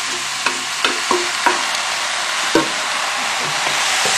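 Mincemeat frying in a pan with garlic and onions, a continuous sizzle broken by several sharp scrapes and knocks of a stirring utensil against the pan.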